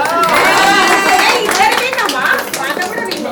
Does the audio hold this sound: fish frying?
no